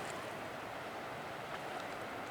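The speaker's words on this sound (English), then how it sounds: "Tiny little wind-blown waves." Tiny wind-blown waves lap on the protected side of a lake on a summer day, making a faint, steady, even wash with no voices.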